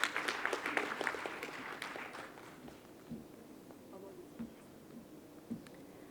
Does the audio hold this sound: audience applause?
yes